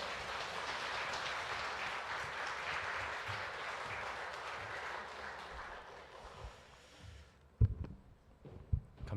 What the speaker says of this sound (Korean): 우리 나올 때 큰 박수로 맞이하겠습니다.